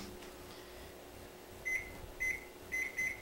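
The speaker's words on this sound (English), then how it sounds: "There ain't nothing wrong with using the microwave." A microwave oven heating taco dip hums steadily, then gives four short, bright beeps in quick succession near the end, close and clear.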